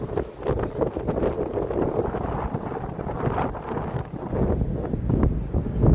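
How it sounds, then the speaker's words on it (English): Cold winter night wind in downtown Toronto, buffeting the microphone as a loud continuous low rumble with gusty swells throughout, no voices present. "because it is windy in the city tonight"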